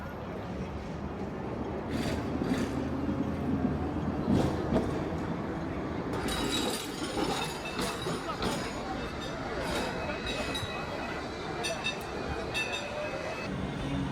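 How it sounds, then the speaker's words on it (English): Peak Tram funicular in Hong Kong climbing the hillside, a steady rumbling rolling noise with faint rail clatter and bright squeal-like streaks, people talking quietly throughout. "We are taking the Peak tram up the Peak today."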